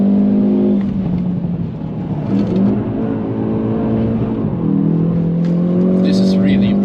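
Stock Hyundai i30N with dual-clutch transmission accelerating hard on the Nürburgring, heard from inside as a loud, strained engine drone that climbs in pitch and drops with each gear change.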